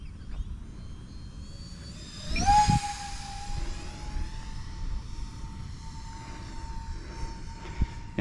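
An E-flite UMX B-2 Stealth, a small radio-controlled ducted-fan jet, whines past overhead, its tone rising sharply as it nears and then holding a steady high pitch as it moves off, heard outdoors without talk.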